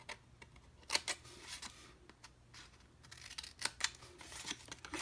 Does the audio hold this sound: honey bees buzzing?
no